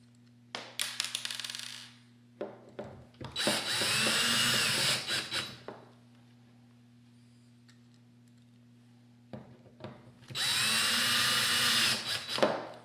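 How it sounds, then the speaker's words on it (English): Screws are driven into the handle of a Dupray Neat steam cleaner with a power driver, heard as two loud, close, sustained whirring bursts, each led in by short clicks and taps, with quiet gaps between them. "we'll flip the handle over, and the last 2 screws go in the other side."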